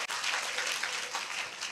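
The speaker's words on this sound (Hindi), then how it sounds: "ऐसे शानदार इंसान और ऐसी शानदार सोच के लिए मैं चाहता हूं एक जानदार तालियां होनी चाहिए।" A hall audience bursts into applause at a motivational talk's closing, dense and steady clapping throughout a short burst with no voices.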